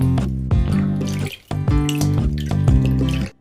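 Water tap running loudly into a sink while fidget toys are washed, a close, steady gush with brief breaks, no talking.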